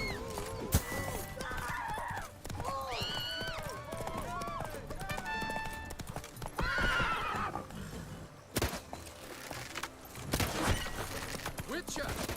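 Roach, a horse in The Witcher video game, neighs in several whinnies and snorts, with hoof clip-clops, sharp impacts and game sounds mixed in, loud and close, while a voice speaks over parts of it.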